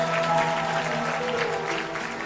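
A church congregation at Sunday prayer applauds the pastor and choir, giving a loud, steady burst of clapping that fills the room and eases only slightly over a couple of seconds.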